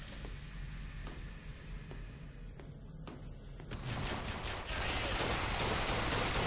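Rapid bursts of gunfire from the video game Bioshock Infinite, dense and continuous, growing louder and busier toward the end with sharp cracks layered over a steady rumble.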